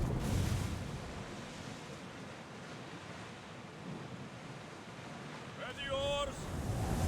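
A ship sailing on ocean waves in Assassin's Creed Odyssey, a steady wash of surf and wind noise, with a brief voice near the end.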